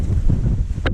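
Outdoor wind on a hot, windy day buffets the microphone in a steady low roar for about a second, ending with a brief brighter gust.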